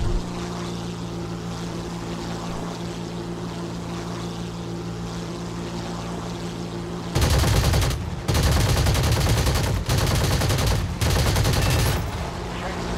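Bursts of rapid machine gun fire from a Fw-190 or Ta-152 in War Thunder break over a steady aircraft engine drone, several loud sustained volleys in the second half.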